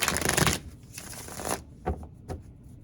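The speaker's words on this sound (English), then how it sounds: "Let's give this a good shuffle." A deck of cards riffles quickly in two rapid bursts, followed by a few soft taps as the deck is squared, close and fairly quiet.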